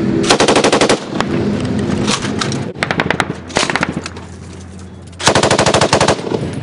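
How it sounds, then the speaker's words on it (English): Afghan private security contractors in Kandahar fire hand-held light machine guns into an alleyway: loud, close, rapid bursts of automatic fire in several separate volleys, with brief lulls between them and no talking. "the Afghans are holding these light machine guns. They're firing not from a ground position, but they're holding them."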